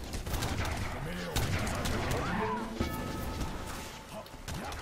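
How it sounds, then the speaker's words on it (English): Cannon fire in Age of Empires 3: The Asian Dynasties during a siege mission, with booms and cracks overlapping in a dense, continuous barrage that stays loud across the whole stretch. "How many freaking cannons he has."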